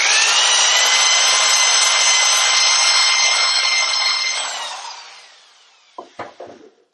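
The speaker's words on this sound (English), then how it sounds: "we're going to run a dingle ball hone through there to clear the rust and the crud out" A dingle ball hone whirring inside a rusty motorcycle cylinder, driven by a power drill in a loud, steady scrubbing run that winds down, then a few clunks as the tool is pulled out.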